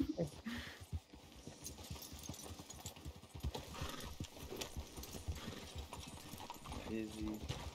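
Horse hooves clip-clop steadily in Red Dead Online as a rider circles the horse in donuts, the quiet rhythmic hoof beats running under game noise and players chatting.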